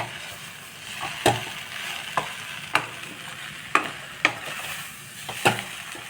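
A spoon scrapes and stirs tomato bread upma in a pan, sharp clinks repeating every second or so over a faint sizzle, close and fairly quiet with no voices.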